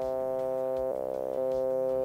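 Synth tone from Ableton Drift sent through a band-pass auto filter at about 550 Hz with high resonance: a sustained, nasal, buzzy note that shifts to a different pitch briefly in the middle before returning, heard alone.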